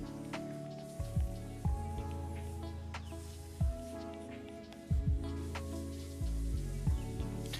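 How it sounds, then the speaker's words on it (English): Water from a hose sprays against a house window outside, giving a soft hissing patter with intermittent thumping gushes, heard from indoors behind quiet background music. "It's someone spraying my window with a hose."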